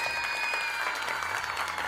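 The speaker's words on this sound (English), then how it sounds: "please stop clapping" A brief burst of crowd clapping, dense and even, lasting just a couple of seconds.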